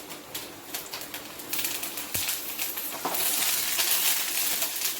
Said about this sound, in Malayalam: തേങ്ങ ഒരു പകുതി മൂപ്പാവുമ്പോൾ കുറച്ച് കറിവേപ്പില നമുക്ക് ഇട്ട് കൊടുക്കാം